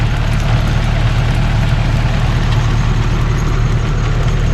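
A converted tractor engine idles steadily at close range, a continuous low, heavy rumble with no pauses or voices over it.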